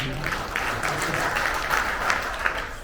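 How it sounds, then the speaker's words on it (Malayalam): Attendees at a Bakers Association state review meeting applaud together, a close, fairly loud burst of clapping with sharp individual hand claps standing out. "Okay, ഒന്ന് കൈയടിച്ചു"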